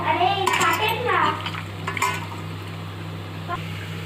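Chicken being mixed with salt in a pan: close scraping and stirring strokes over a low sizzle, busiest in the first two seconds, then lighter clinks, with a steady background hum.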